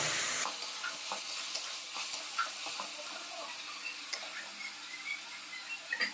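Onion paste frying in oil for a homestyle chicken curry, stirred now and then, giving a steady close sizzle with soft scraping taps and no voices.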